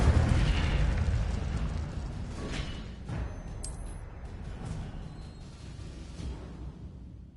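An Incendio fire spell cast in Hogwarts Legacy on PS5 bursts with a loud whooshing, rumbling blast that gradually fades into a crackling, lower roar, with faint magical chimes partway through.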